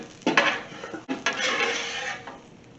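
Sautéed, lightly caramelized white onions scooped out of a pan, with loud close clanks of a metal utensil against the pan and a short scraping run.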